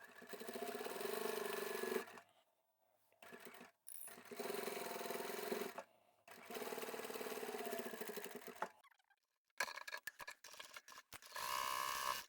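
A sewing machine stitches a fabric notebook storage folder in several short runs of a steady mechanical whirring, each lasting a couple of seconds and separated by brief silences, with light clicks between runs as the stitching reverses.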